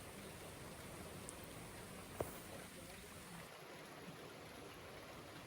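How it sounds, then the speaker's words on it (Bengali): Heavy rain falls steadily over a village with fields, a constant dense hiss close by, broken by one sharp knock. "অনেক জোরে বৃষ্টি হচ্ছে"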